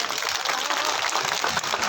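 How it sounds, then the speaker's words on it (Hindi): A political rally crowd applauding to welcome the leaders on stage, a dense wash of clapping with crowd noise over a short stretch, steady and fairly loud. "सभी नेताओं का अभिनंदन करती हूँ और जोरदार तालियों के साथ में स्वागत करती"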